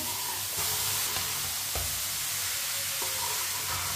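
Grated carrots for gajar ka halwa cooking in a hot pan, a constant low sizzle and hiss with occasional spoon scrapes and knocks as they are stirred, close by and without speech.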